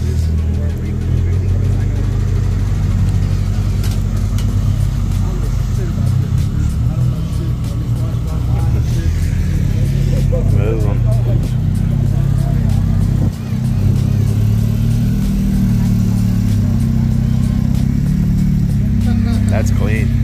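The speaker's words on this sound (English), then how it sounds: "All the bag trucks are coming out tonight," Lowered bagged trucks and cars pull out of a Cars and Coffee meet, a steady rumble of several engines with occasional revs, close by under ongoing chatter from people nearby.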